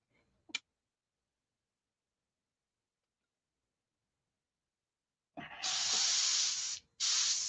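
A spray paint rattle can fires off a short spitting burst, then after a long silence gives two loud sustained hissing sprays with a brief gap, used on a pilot figure.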